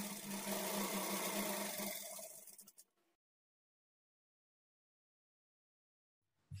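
A sewing machine runs steadily while stitching the sleeves of a lined blouse, a close, continuous whirring hum that goes on for about three seconds, then stops abruptly into silence before a faint brief noise at the end.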